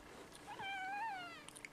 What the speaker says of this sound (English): my cat wanted in.